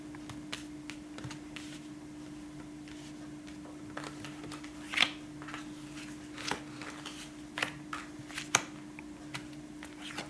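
Tarot cards are handled and shuffled for a cross spread, giving faint, close flicks and soft slaps in irregular bursts over a steady low hum.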